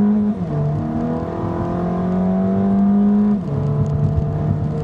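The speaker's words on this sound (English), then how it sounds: "But let's get into the throttle up this hill." A Dodge Dart GT with a four-cylinder engine accelerates uphill, its steady engine drone rising in pitch through the gears, with a brief dip at a shift early on and another near the end, loud and close throughout.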